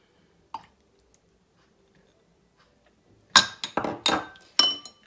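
Milk, orange blossom water and oil are mixed with a fork in a bowl for kalb el louz. A lone clink is followed by silence, then a quick burst of close, bright clinking and tapping against the bowl.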